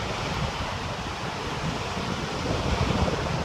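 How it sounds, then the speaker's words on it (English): Steady, heavy wind in Mackinaw City roaring and buffeting the microphone, with a continuous low rumble that swells louder toward the end; no voices. "really, really windy."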